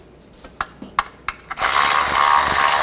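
A ratchet tightening bolts on a 2009-17 Chevy Traverse, six sharp clicks in a quick irregular run, then a sudden loud steady hiss takes over.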